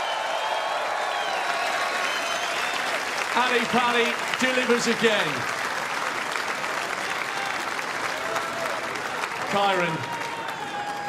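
A snooker crowd at the 2025 Masters final applauds both finalists with sustained, steady clapping throughout, while a commentator talks over it.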